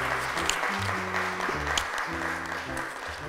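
Applause for a child invited onto a stage at a children's show, a steady round of clapping from an audience under background music.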